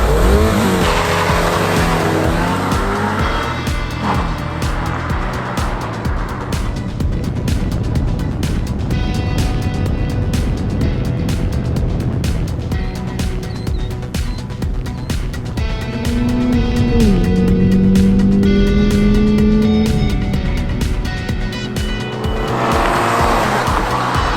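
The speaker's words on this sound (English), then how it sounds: "So now we'll try a lap in the GR86 and see how it does versus the really, really well balanced MX-5 RF" A Toyota GR86 sports car is driven hard around a race track, its engine droning loud and steady near the listener with rising and falling pitch through gear changes, and bursts of tire squeal as it corners.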